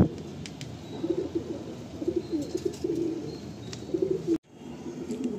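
Madrasi pigeons in a loft at Ranihati give repeated low, throaty coos in short rhythmic bursts, moderately close, with a brief drop in sound near the end before the cooing resumes.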